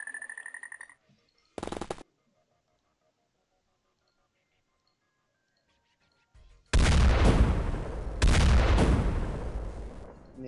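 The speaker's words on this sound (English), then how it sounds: "Someone else was firing." Gunfire in the turn-based game X-Com Files: a short crackling burst early on, then after a long quiet stretch two heavy, booming rolling shots close together, loud and unaccompanied by talk.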